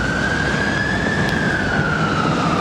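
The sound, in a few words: ambulance siren on London street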